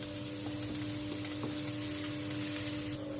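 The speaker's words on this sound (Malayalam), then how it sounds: "നല്ലായിട്ട് സവള ഇളക്കി കുക്കണം." Onions sautéing and being stirred in a pan give off a steady, close sizzle with faint scraping, with no voices over it.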